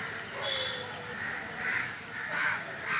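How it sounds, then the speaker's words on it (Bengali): Several crows caw repeatedly nearby near Piyali bridge on the way to the Sundarbans, their harsh calls overlapping in a loud, continuous chorus. "এত কাক উঠছে কেন"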